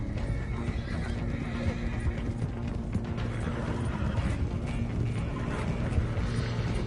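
Hooves clip-clop rapidly amid whinnying horses and a dense, continuous rumble of activity, loud and busy throughout, in the video game Red Dead Redemption 2.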